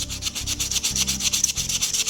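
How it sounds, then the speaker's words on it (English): Close, rhythmic rasping of sandpaper scrubbed back and forth over rusty gun metal in quick, even strokes, loud and continuous, sanding down to bare metal. "just sanding her smooth, get down to bare metal"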